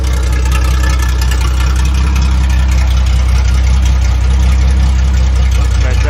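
A Datsun 260Z engine idles with a throttle adjustment, a loud, steady, low rumble close by that holds evenly throughout without any speech.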